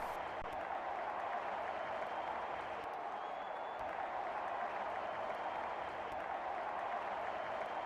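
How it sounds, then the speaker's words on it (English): A stadium crowd in a cricket video game roars and applauds after a boundary, a dense, even wash of cheering and clapping that holds steady throughout at a distance, with no commentary over it. "Here, crowd is going crazy."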